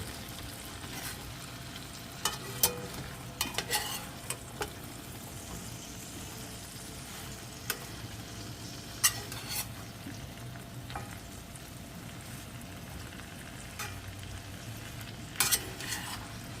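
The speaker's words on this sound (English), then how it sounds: "Now, I'm just going to stir it a little bit." Yellow squash and onions, seasoned with salt and pepper, sauté in a pan with a steady close sizzle, broken by occasional scrapes and clacks from a stirring utensil.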